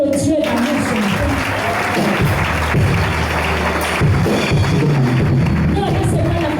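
A church congregation applauding God during a French-language service, steady clapping mixed with crowd noise and raised voices throughout.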